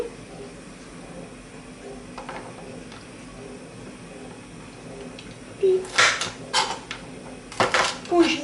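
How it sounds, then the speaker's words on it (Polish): Green beans being cut into fairly large pieces with a knife in a home kitchen, a quiet stretch followed by a few clattering bursts of chopping near the end. "Ja fasolkę sobie kroję, nie za drobno, takie większe ilości i kroję sobie na takie kawałeczki."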